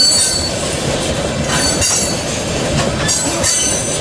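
A freight train with its end locomotive rolls past close by, loud and continuous. Rumbling wheels, clatter and brief squeals carry through without any talk.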